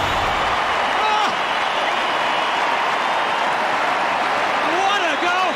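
A 50,000-strong football crowd roars after a spectacular goal, a dense, loud, continuous wall of cheering and applause under excited commentary.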